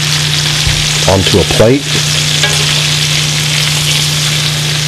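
Steaks sizzle in a hot cast iron pan, giving a loud, close, continuous frying hiss with a steady hum underneath, while a person speaks briefly over it.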